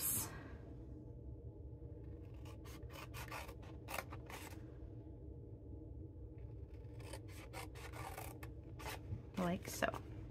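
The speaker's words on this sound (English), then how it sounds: "And then you're gonna cut flaps." Scissors snipping flaps into scored paper for a basket, a series of short, close crisp cuts spaced irregularly over a quiet background.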